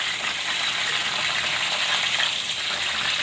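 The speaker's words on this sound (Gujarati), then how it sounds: "આપણે આમાં મીઠાવાળું પાણી નાખશું." Salted water hits hot oil in a pan of frying banana wafers, setting off a loud, steady, close-up sizzle that crackles without pause throughout.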